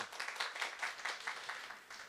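An audience at a business presentation gives faint, fairly even applause, rising and falling in quick regular bursts throughout with no other sound.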